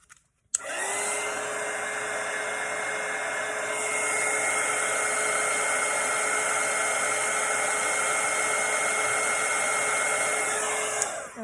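A hair dryer running steadily at close range to dry watercolour paint, switching on after a brief click and holding a loud, even whir that shifts slightly in pitch partway through before cutting off at the end.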